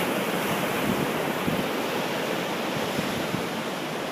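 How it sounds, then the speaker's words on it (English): Big ocean waves break at Hanalei Cove in a loud, continuous roar of surf and hiss of foam, with low thumps of crashing water and some wind buffeting the microphone, no one speaking. "now you get an idea of just how powerful these waves are"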